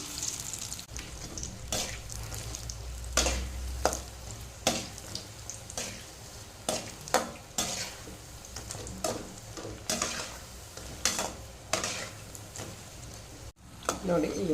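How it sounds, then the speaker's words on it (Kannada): Onions frying in a pan over a medium flame, a soft steady sizzle punctuated by frequent stirring clatters and scrapes at an uneven rhythm, with a voice talking over it. "ಇದನ್ನು ಮೀಡಿಯಮ್ ಫ್ಲೇಮಲ್ಲಿಟ್ಟು ಫ್ರೈ ಮಾಡಬೇಕಾಗ್ತದೆ ಯಾಕೆಂದರೆ ನೀರುಳ್ಳಿ ಹಾಕಿದ್ದೇನೆ"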